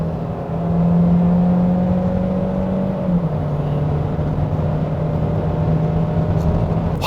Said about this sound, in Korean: 가속 페달을 깊게 눌러 밟아서 속도를 내고 싶다.